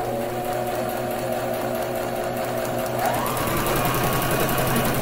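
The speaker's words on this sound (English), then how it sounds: "we're just going to start with back stitching a few times to make sure the knot doesn't come undone" A sewing machine back stitching a fabric surgical mask runs in a continuous fast whirring hum, steady and close, with a slight shift in pitch and loudness partway through as the stitching changes direction.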